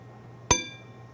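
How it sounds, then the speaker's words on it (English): A martini glass clinks once against a Captain Morgan rum bottle, a single bright ringing strike that decays quickly over a quiet low hum. "that was the sound of a martini glass hitting"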